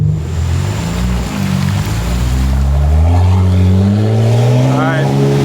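A 2024 BMW G80 M3 CS with a Valvetronic titanium exhaust revs loudly on a rainy day, its deep exhaust note rising and falling over constant wet road noise, with a voice talking over it.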